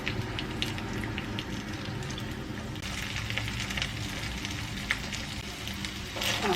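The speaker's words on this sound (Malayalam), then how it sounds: "നമുക്ക് ഈ വെളിച്ചെണ്ണയിലേക്ക് അതിട്ടിട്ട് വറുത്തെടുക്കാം." Mussels frying for pickle in hot coconut oil with curry leaves: a steady, dense sizzle and crackle throughout, close and fairly loud, with a brief stirring bump near the end.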